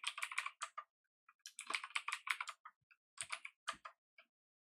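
Bursts of clicky keystrokes on a computer keyboard while information is typed into a web form, close and clear, in quick rhythmic runs separated by short pauses, with no voices.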